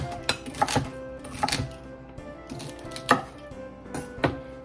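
Knife roughly chopping celery stalks on a board for a cranberry salad, several sharp, uneven chops spaced across the moment, with a faint musical backdrop and no talking.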